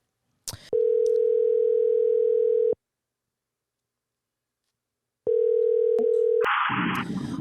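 A telephone dial tone hums steadily for about two seconds after a click, stops, then returns before being cut off by a burst of noisy line static and clicks.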